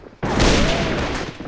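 A loud, sudden grenade blast in a video game: a sharp onset followed by a heavy, roaring rumble that fills the short moment and slowly fades.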